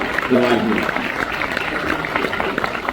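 Audience applause at a Hindi comic and satirical poetry gathering: a dense, steady clatter of many hands that fills the whole stretch, with a voice briefly heard over it near the start.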